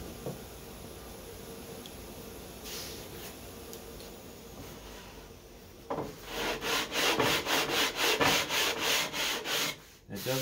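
Medium-density fiberboard is sanded by hand for scratch-built RC plane parts. After a quiet start, a series of close, loud, rhythmic rasping strokes begins about halfway through and runs to the end.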